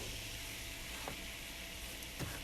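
Vegetables sautéing in about three tablespoons of oil in a soup pot, a steady close sizzle running throughout with a couple of brief stirring scrapes, no talk.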